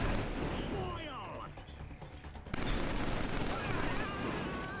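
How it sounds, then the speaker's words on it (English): Video game gunfire in Killzone 3, with dense bursts of shooting and battle noise that drop briefly and then return at full strength, loud and continuous under the game's sound mix. "You're also shooting friendlies, which is Right? despicable."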